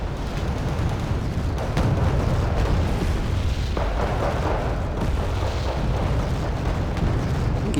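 Rocket strikes pounding in the Wargame Red Dragon strategy game, a loud continuous rumble of explosions and booms with several sharper blasts rising out of it, dense and sustained without talk.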